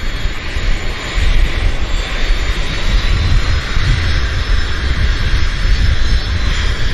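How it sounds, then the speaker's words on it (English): Regional jet engines at Vancouver airport as the aircraft moves off the stand, a loud, steady roar with a broad rumble and a constant high whine, heard up close without talk. "RJ's moving."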